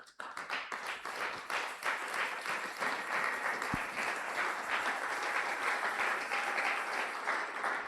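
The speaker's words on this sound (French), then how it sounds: "Est-ce que tu peux acclamer très fort?" A church congregation at a Sunday worship service bursts into loud, sustained applause with scattered claps and cheering, a dense wall of sound that carries steadily for the whole stretch with no talk over it.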